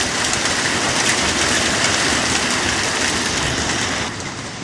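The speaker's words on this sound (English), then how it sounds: "I'm getting rained on as well." Steady heavy rain pours down outdoors onto a walkway and driveway in a dense, continuous hiss that eases slightly near the end.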